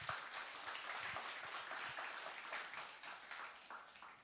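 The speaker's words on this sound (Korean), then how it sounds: "다시 한번 큰 박수 부탁드리겠습니다" A church congregation applauds during a Sunday worship service. The clapping is dense and fairly steady, at moderate volume, and tapers slightly toward the end.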